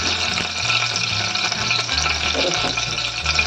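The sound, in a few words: asafoetida (hing) added to hot oil for toor dal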